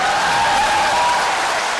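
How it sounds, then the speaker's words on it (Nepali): Audience clapping at a gathering celebrating a family's move into a newly built house, a dense, loud burst of many hands beating together steadily, close and without voices. "एकपल्ट ताली बजाउनुहोस् न, खुसीको कुरा हो।"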